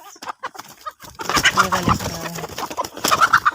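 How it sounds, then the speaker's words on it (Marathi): A rooster and hens clucking in a backyard flock, several short bursts of clucks at first, then a denser stretch of overlapping calls, fairly close. "एक कोंबडा बाकीच्या कोंबड्या आहेत ह्या बाजूला आहेत"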